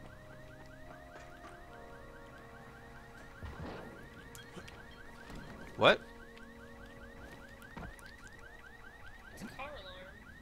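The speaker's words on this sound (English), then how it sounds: "It's a car alarm." A car alarm sounds in the zombie game Dying Light, a repeating electronic warble cycling steadily in the background while a voice briefly speaks and a sharp thud hits near the middle.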